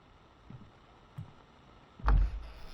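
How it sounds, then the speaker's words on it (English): A door opening in the horror video game FM: a couple of faint creaks, then a single loud low thud with a short rumbling tail, heard alone in a quiet room. "Now the door's open."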